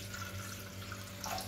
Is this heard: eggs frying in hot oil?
no